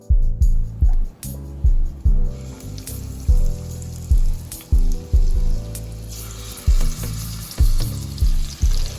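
Butter and avocado heating in a frying pan while cooking an egg noodles and shrimp dish: close, steady sizzling frying with a repeating rhythmic thump roughly every second, loud and without talk.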